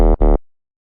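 Two-layer dubstep bass synth patch built in Serum for a minimal dubstep drop: two short, loud, distorted buzzy hits in quick succession, then abrupt silence.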